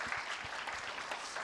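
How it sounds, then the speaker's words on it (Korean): Brief burst of audience clapping at a summer youth camp concert after a mentor's presentation, dense and even crowd applause, fairly loud throughout the short stretch. "박수 한번 칠까요?"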